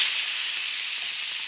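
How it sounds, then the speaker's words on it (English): An Instant Pot RIO Mini 4-quart pressure cooker vents steam through its release valve in a steady, loud, high hiss that holds nearly constant throughout, close by and alone without speech. "And it goes out, and the steam comes out."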